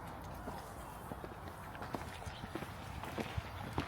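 A pony's hooves clip-clopping during a riding lesson, with soft, fairly regular hoof steps at a walking pace, faint and slightly distant, with faint background noise.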